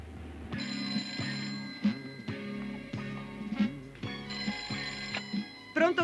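A telephone in a film rings in repeated bursts of bright, trilling bell tones with short pauses between them, clear and fairly close, with no talking over it.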